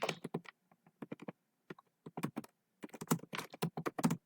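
Close, clear computer keyboard typing while an HTML web page is written, irregular bursts of sharp clacks with short gaps between words and no voices.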